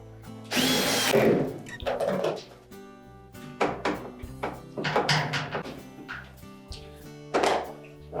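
A power drill drives screws into the cover of a Whirlpool dryer during a blower wheel repair, with several short whirring bursts separated by pauses, knocks and handling clatter, close and loud.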